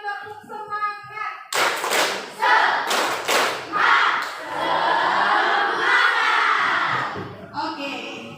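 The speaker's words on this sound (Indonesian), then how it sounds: "Oke, 2 kali tepuk semangat" Indonesian schoolchildren in a classroom perform two rounds of the rhythmic tepuk semangat clap: loud, sharp group claps and thumps with chanting voices, bracketed by a teacher speaking.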